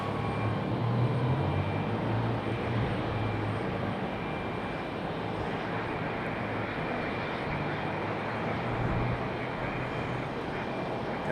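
A Frontier airliner lifting off the runway at Raleigh-Durham International Airport: a steady, broad jet engine roar at a distance, unbroken throughout with no voices.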